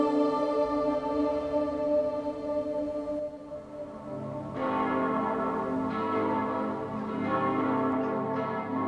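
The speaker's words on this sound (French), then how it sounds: "les cloches de Santiago se mettaient à sonner à toute volée" Church bells of Santiago ring out in a full, resonant peal, overlapping strikes with long sustained tones, continuing throughout with no voices.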